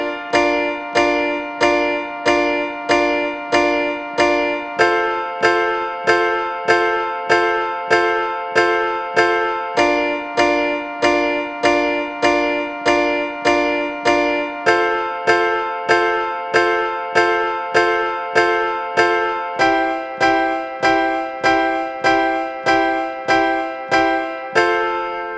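Piano chords for the chorus of a song, each chord struck eight times in an even, steady pulse before moving to the next, bright and close with no voices.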